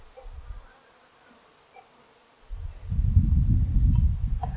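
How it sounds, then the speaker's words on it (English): A cluster of live honeybees, probably robbing a hive, gives a low buzzing hum that is faint at first, drops away, then swells loud and steady up close. "there's a cluster of live bees here. They're probably robbing."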